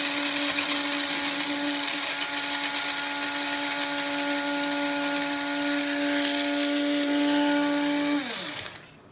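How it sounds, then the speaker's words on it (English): A coffee maker running on a solar power generator lets out a loud, steady motorized whine for several seconds, then winds down and stops. "As I press the coffee maker, I'll watch the watts here."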